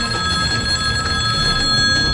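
Telephone ringing steadily and loudly with a sustained electronic ring tone, no voices, just before a call is picked up at a TV station.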